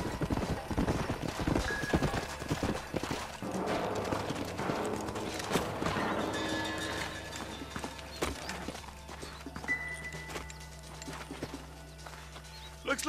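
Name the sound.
horses' hooves clip-clopping in video game Red Dead Redemption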